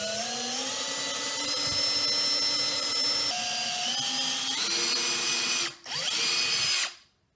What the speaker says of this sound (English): I'm going to drill all around where I put these marks